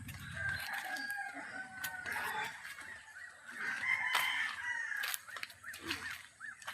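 Several pet ducks with ducklings quack and chatter close by in an ongoing, overlapping chorus, with a few louder calls rising above the rest.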